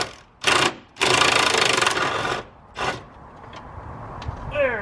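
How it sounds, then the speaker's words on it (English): Wrench working loose a nut while removing a car's rear suspension, heard as loud rapid mechanical bursts, a long sustained run of buzzing clatter, then shorter bursts and faint clicks in a garage. "I have a wrench on the back. Hopefully now we can take that nut off."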